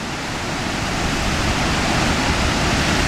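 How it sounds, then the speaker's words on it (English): Cohoes Falls on the Mohawk River in upstate New York roars as a steady, broadband rush of falling water, loud and continuous with no voices. "get back to the main falls."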